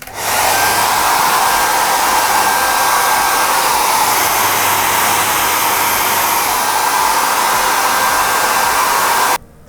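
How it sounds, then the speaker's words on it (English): A hair dryer runs on its high setting during a home product photography shoot, a loud steady whooshing roar that holds constant for about nine seconds before cutting off abruptly near the end. "So we've got our hairdryer, put it on high."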